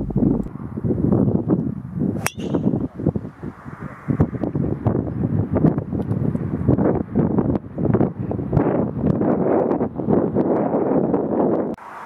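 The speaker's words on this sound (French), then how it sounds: "Attention au vent cependant." Wind gusting across a golf course, a continuous rough buffeting rumble against the microphone that rises and falls throughout, with a brief sharp click near the start.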